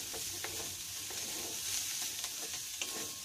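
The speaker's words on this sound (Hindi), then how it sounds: "धनिया पत्ता भी इसमें डाल के मिला लेंगे और इसे चला लेंगे" Moong fry with fresh coriander leaves being stirred in a pan, a quiet, low sizzle with faint scraping and light clicks of the spoon, close by and uninterrupted by talk.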